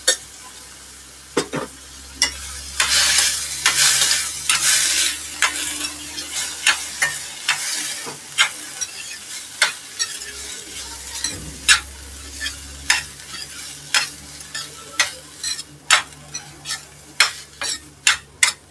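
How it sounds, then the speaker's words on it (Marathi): Mustard seeds and curry leaves with chili spices temper in hot oil over sprouted moth beans, a crackling sizzle that fades while a spoon repeatedly clacks and scrapes the pan in sharp, irregular strokes. "मटकीला थोडीशी जरा तडका देऊया. थोडासा मसाला टाकलेत मी, तिखट वगैरे, राई आणि कढीपत्त्याचा तडका."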